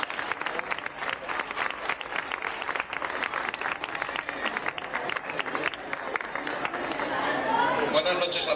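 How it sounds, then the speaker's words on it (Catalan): Crowd at a regional dance show held by a Valencian falla applauding as a municipal traffic official takes the stage; dense, steady clapping blended with chatter, swelling slightly toward the end. "Un aplaudiment."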